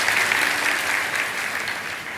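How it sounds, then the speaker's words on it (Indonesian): A church congregation gives sustained, dense applause during a worship service, steady and fairly loud throughout with no voices. "Kasih tepuk tangan untuk mereka."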